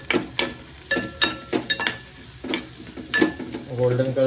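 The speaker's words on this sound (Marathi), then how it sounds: "मस्त पैकी आपला कांदा आणि लसूण कढीपत्ता टाकला मस्त पैकी." Onion, garlic and curry leaves sizzle in a pan, with a steady frying hiss broken by repeated sharp stirring scrapes and clinks of a spoon against the pan, close and fairly loud.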